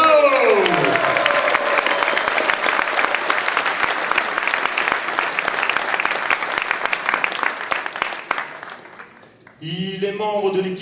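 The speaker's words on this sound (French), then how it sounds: "Merci d'applaudir Zheng Shao." Audience applauding a table tennis player being introduced at a match, a dense sustained roar of clapping that fades near the end as a voice begins speaking.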